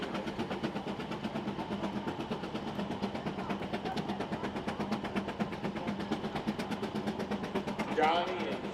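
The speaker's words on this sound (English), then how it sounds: "This is an 18 horse steam engine tractor." An 18 horsepower steam engine tractor works through a pull at an Iowa tractor-pulling event, its chuffing exhaust beating in a steady, fast rhythm under continuous talk, with a brief louder whoosh near the end.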